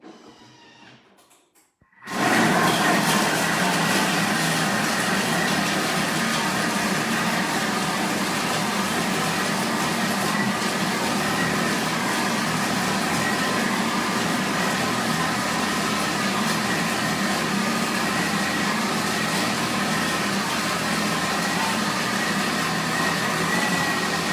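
A food processor blends cold meat for boudin blanc, switching on after a brief quiet moment into a loud, steady motor whir that holds evenly for about twenty seconds without interruption.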